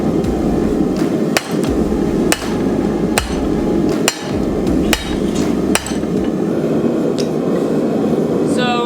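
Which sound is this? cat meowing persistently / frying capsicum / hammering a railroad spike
hammering a railroad spike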